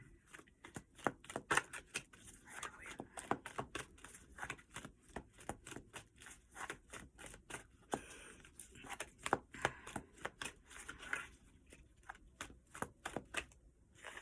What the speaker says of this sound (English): I can't stop until I get a good shuffle sign, y'all.